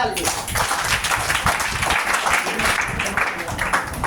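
Audience applause in a Hindi health talk, continuous dense clapping for a few seconds with voices mixed in.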